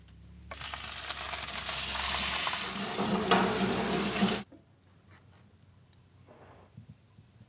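Radicchio sizzles and crackles loudly in a hot pan for about four seconds, then cuts off abruptly, leaving only faint kitchen clatter and a short hiss near the end.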